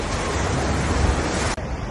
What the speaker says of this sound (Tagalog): Ang lakas ng alon ngayon, grabe.